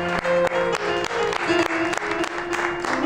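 Audience applause for a late ghazal singer at a music show, a dense patter of clapping with vertical bursts over sustained musical tones, close and moderately loud for about three seconds.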